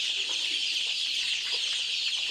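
A flock of black chicken chicks, a dense, continuous high peeping chorus from many birds close by, steady throughout with no talking.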